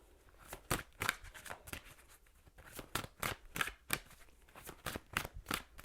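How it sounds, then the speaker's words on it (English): Tarot cards are shuffled by hand in a quiet room, a steady run of soft riffling flicks and slaps in irregular clusters, close and faint, with no talking. "One more shuffle."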